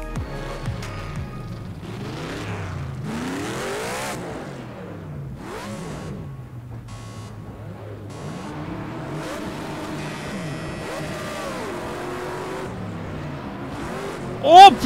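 Race cars in Project CARS 2 roar off the start at Bathurst in snowy conditions, several engines revving and shifting up in overlapping sweeps, with a sharp burst at the very end.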